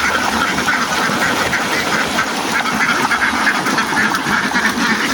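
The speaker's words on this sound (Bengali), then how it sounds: "তিন হাজার হাঁসের পাল" A large flock of domestic ducks, some three thousand, quacks continuously while bathing on open water on a free-range farm, a dense loud chorus of overlapping calls with no talk.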